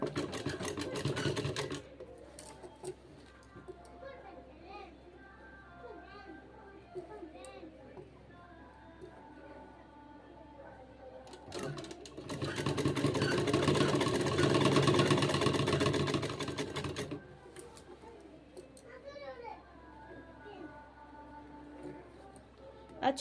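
A sewing machine stitches a seam along the edge of a suit, running in a dense mechanical burst in the middle, with quieter handling sounds and someone talking throughout.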